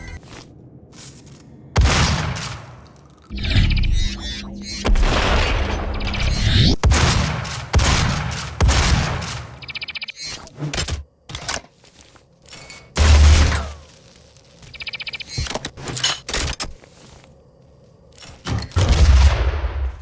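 Shotgun blasts from the video game Doom Eternal, heavy booming single shots fired at irregular intervals over a dense, loud mix of game action and impacts, with no talking.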